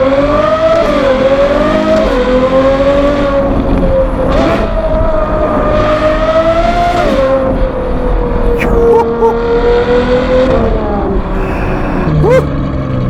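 Novitec Ferrari 812 GTS N-Largo with its aftermarket exhaust, a loud close engine howl rising and falling through repeated revs and shifts, sharp crackles between, heard from the cabin with some talk mixed in.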